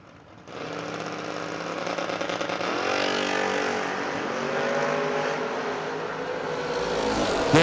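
A 1969 Mustang drag car launches down the strip, its engine roaring up loud and close with a rising whine, dipping on a gear change, then pulling hard again toward a louder finish.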